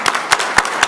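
A few sharp, separate claps, about four in under a second, near and fairly loud in a city council meeting room, more like a small scattered round of applause than a full ovation.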